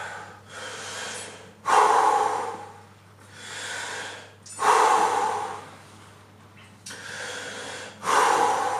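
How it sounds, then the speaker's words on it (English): Three forceful breaths out during Wim Hof breathing in an ice bath, each a loud, sharp, airy exhale evenly spaced about three seconds apart, with quieter breathing between them and no talk. "gotta go for the breath out"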